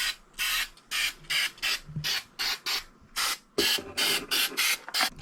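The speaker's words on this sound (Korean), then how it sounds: "스프레이 접착제예요." Spray adhesive spritzed onto a homemade Marshall JTM45-style guitar amp cabinet in a series of about a dozen sharp, close hissing bursts, each roughly a quarter to half second long, separated by brief pauses.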